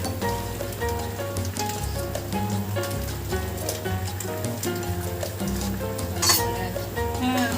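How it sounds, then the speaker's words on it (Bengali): A pot of mango chutney with mint, batasha and dried chillies bubbles and sizzles steadily over the heat, a constant close crackle with faint clinks of utensils and no voices. "পুদিনা ফুটছে, বাতাসা ফুটছে, শুকনো লঙ্কা ফুটছে, আমও ফুটছে।"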